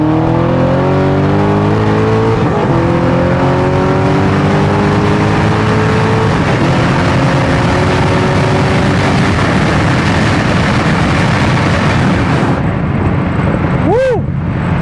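Corvette C6 Z06 with an LS7 V8 pulls hard from 60 to 130 mph, loud and close, its rising engine note climbing through several gearshifts before cutting off abruptly near the end.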